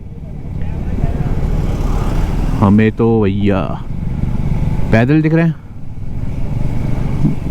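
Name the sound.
motorcycle riding on a mountain road near Atal Tunnel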